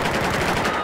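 Sustained automatic gunfire in the shooter game Battlefield 4, a dense unbroken rattle of rapid shots lasting under a second with no voices.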